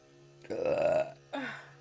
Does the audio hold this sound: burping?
yes